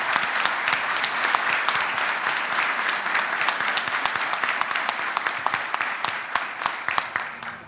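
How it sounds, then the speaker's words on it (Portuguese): Audience applause for a panel at a business forum on operational excellence, a dense steady wash of many hands clapping with sharp individual claps standing out, sustained throughout at close range. "eu queria pedir a vocês que se juntem a mim para aplaudir essa turma aqui"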